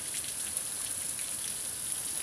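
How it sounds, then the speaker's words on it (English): Steady heavy rain pours continuously at night, a dense hiss of drops close by with no voices. "listen to the rain."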